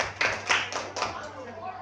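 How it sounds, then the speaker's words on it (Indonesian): Teachers at a school clap their hands in a short burst of several close, rhythmic claps that fade out after under two seconds. "Tepuk tangan dulu."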